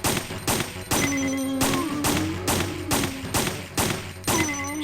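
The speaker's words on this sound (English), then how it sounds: "again, you just gotta shoot, really." Repeated gunfire from shooting in Resident Evil 3, a steady burst of sharp, loud shots at roughly half-second intervals with thumping impacts and ringing tones between, continuous and close, no voices.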